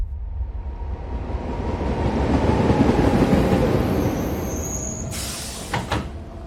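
Rumbling train carriage in motion, a steady loud roar that swells in the middle, then sharp clatters and clanks near the end like doors or couplings, with no talking.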